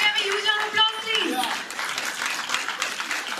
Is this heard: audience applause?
yes